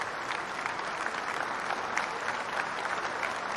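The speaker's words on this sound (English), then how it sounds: "Round of applause, ladies and gentlemen." Steady applause from a crowd, dense and continuous clapping at moderate distance, with no break for the full stretch.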